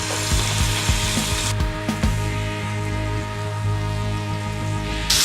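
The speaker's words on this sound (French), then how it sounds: "Donc on met un peu d'huile d'olive et on va faire cuire la viande." Beef cooking in olive oil in a pan, a loud, steady broad sizzle with scattered crackles and a few clattering knocks near the start, no voices.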